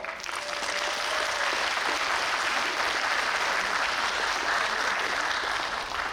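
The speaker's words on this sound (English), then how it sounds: "big round of applause for all the volunteers as well" Sustained audience applause at an outdoor BC Day community celebration in Coquitlam, an even crowd of clapping hands held at a steady level throughout.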